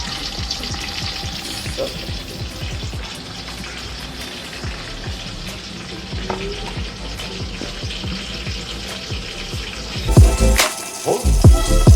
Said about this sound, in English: So frying the fish now.